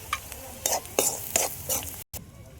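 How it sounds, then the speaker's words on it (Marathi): Garlic sautéing in a pan with turmeric and salt, stirred in about five short, scraping bursts over a soft sizzle, close and clear, then a brief dead stop near the end. "अर्धा चम्मच हळद टाकतो आणि लगेच चवीपुरतं मीठ परतून घेतो."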